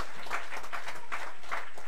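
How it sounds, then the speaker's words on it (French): A church congregation applauds during a Sunday service, a steady, full wash of many hands clapping with no break from start to finish. "Let's give him a hand praise one more time."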